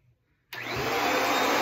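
A Eureka EasyClean HandVac handheld vacuum cleaner switches on abruptly after near silence and holds a loud, steady, high-pitched motor whine close by.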